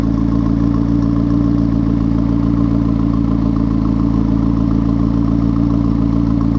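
A McLaren supercar sits running after about five minutes, its engine giving a steady, loud, unbroken idle drone from the exhaust with no speech over it.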